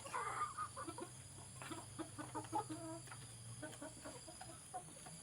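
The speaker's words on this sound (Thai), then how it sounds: "ไก่รุ่นใหม่สีดำๆขนน้อยโดนเพื่อนจิก" Young black and white chickens clucking and chattering nearby, scattered calls over a constant background hum.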